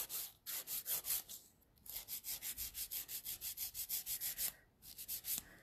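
Rapid back-and-forth strokes of a nail file tapering the sidewalls of acrylic nails, a close rasping rhythm of about twenty even passes in two bursts with a short pause between, no talking.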